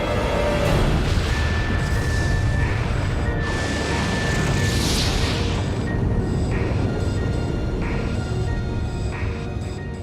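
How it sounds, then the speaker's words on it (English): A sustained, roaring explosion rumbles on for ten seconds, a dense, loud wall of low boom and crackling debris standing in for a solar flare's massive blast. "It's a huge explosion,"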